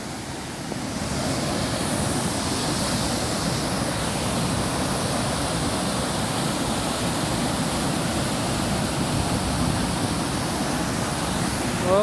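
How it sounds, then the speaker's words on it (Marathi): The fast-flowing Narmada river rushes over and through cracked rocks near Dhuandhar, a steady, loud, unbroken roar of water with a little wind noise and no speech. "जसं नर्मदा माता वाहते ते ते बघा पूर्ण दगडांना असं भेगा पाडून भेगा पाडून जाते आहे का एवढं पाण्याला स्पीड आहे इथं"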